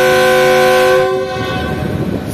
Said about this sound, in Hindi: ट्रेन यहाँ से निकल रही है